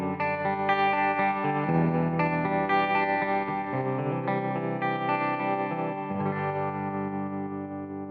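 An electric guitar played through Fender Tone Master Pro effects into a Nano Cab, miked with an SM58-style microphone, rings out in sustained distorted chords washed with chorus and reverb, loud and continuous with no talking.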